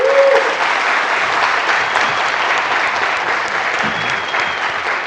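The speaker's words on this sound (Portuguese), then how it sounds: "E eu gostaria que vocês batessem uma salva de palmas para a organização" A conference keynote audience claps for the event organizers, a dense, steady wash of applause from a sizable crowd that holds evenly for the whole stretch.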